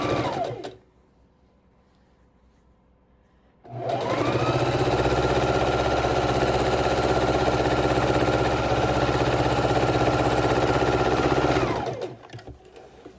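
A sewing machine stitches a row on a scrap-fabric quilt, starting after a few seconds of near silence, then running at a steady mechanical hum for about eight seconds before stopping.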